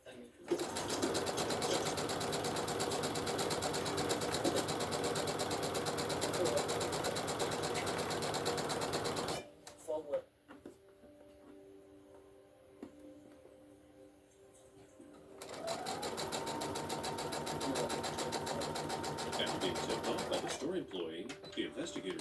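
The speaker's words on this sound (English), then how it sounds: "When you're sewing these jelly roll strips together" A sewing machine stitches jelly roll fabric strips together, its steady mechanical whir running loud and continuous, stopping briefly partway through before starting again, while a voice talks over it.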